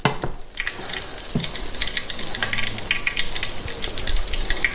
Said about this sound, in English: So laid our steak in. We're going to seal our steak